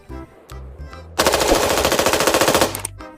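A battery-powered toy soldier's gun fires a rapid, loud electronic machine-gun burst lasting about a second and a half, preceded and followed by short electronic beeps, close and without talk.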